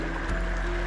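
Steady, continuous rushing of a river stream flowing where Chinook salmon spawn, dense broadband water noise filling the whole moment without pause.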